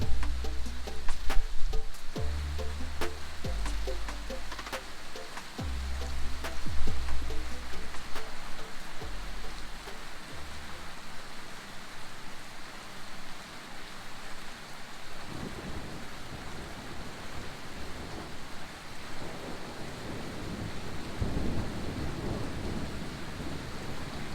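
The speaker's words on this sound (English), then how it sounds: "Big storm rolling through." Deep rolling thunder cracks and rumbles repeatedly over a steady roar of heavy rain near Mount Isa in the Australian Outback, the storm close and loud before easing into a constant downpour.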